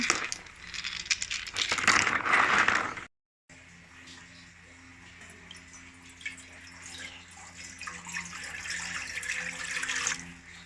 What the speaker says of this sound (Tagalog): Hugasan mo na itong shell.